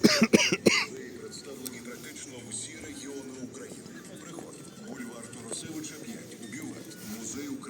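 A short burst of several coughs right at the start, close and fairly loud, followed by quiet background murmur and shuffling.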